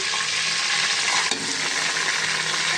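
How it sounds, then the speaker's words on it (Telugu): Tomato, green chilies, dried red chilies, cashews, chili powder and coriander powder fry in a pan with a steady, loud sizzle and stirring scrapes, one brief clatter partway through, no talking. "టమాటా ఇవన్నీ బాగా ఫ్రై అయినాయి కదండి"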